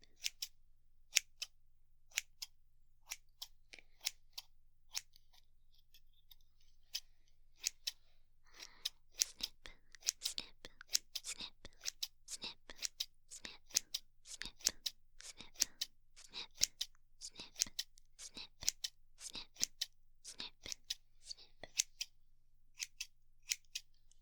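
Scissors snip through flower stems again and again in a quiet room, crisp close metallic cuts coming in an uneven steady rhythm that grows busier partway through, with no talking.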